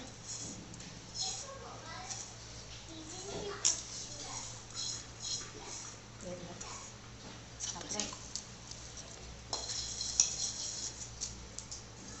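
A spoon stirs a mustard-and-onion tempering through cut mango pieces for a mango pickle, making soft, close scraping and clinking against the bowl in uneven strokes, with a person talking over it.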